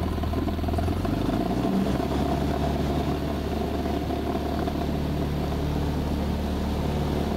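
A Cessna 172 engine roars at full power during the takeoff roll, a loud, steady, unbroken drone with a faint rattle, heard from inside the cabin for the whole stretch.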